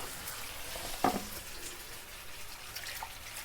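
Masala fries in a pan over a low gas flame, a soft steady sizzle with a brief stir or clink near the start, fairly quiet and without talk.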